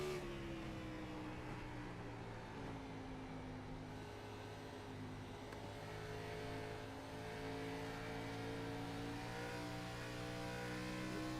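A racing car engine drones steadily at high revs, its pitch rising and falling as it climbs through the gears off a corner, loud and continuous with no talk, in the racing game iRacing.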